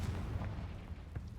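A Confringo blasting spell explodes in Hogwarts Legacy, a short, faint, low rumbling burst with a couple of small pops, heard alone.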